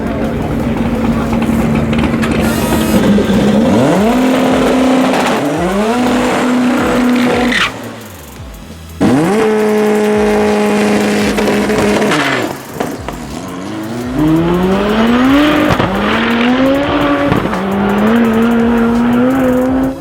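Full-power drag car, a Camaro RS with a 496 cubic inch engine and H-pattern gearbox, launching on drag radial slicks: loud engine roaring up through repeated gear changes with a brief drop partway, close and dominant throughout.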